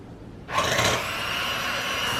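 An electric hand mixer starts up suddenly and whirs steadily as it beats egg whites toward a white foam, a loud close motor drone with no voices.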